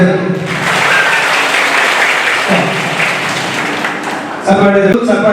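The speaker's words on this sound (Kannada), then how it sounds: "ಒಮ್ಮೆ ಜೋರು ಚಪ್ಪಾಳೆ" A room of school children claps loudly together, a dense burst of applause that fades slightly, then swells again near the end, with voices mixed in.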